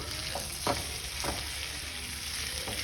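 Cooked chicken frying in a pan to get a crisp layer, a steady hissing sizzle with a few soft stirring touches, close and continuous, no voices.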